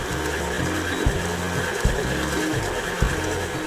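A stand mixer with the paddle attachment runs steadily at medium speed, a constant motor hum with a rhythmic low churning and a few soft knocks as the paddle turns through batter.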